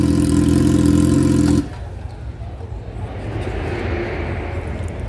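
Motorcycle engines drone with a loud, steady humming tone close by, then cut away to a lower, rumbling background of engines that continues at moderate volume.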